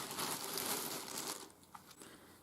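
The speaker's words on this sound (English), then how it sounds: "And I'm just going to open it up. This one's been sent in a little plastic bag." A little plastic bag holding a T-shirt is opened with close, continuous crinkling and rustling that thins into a few scattered crackles as it settles.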